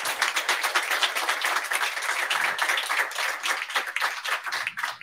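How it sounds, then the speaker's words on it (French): An audience applauds a speaker at a talk on wristwatches and horology, steady dense clapping from a moderate-sized crowd that begins to thin toward the end. "on peut l'applaudir à nouveau."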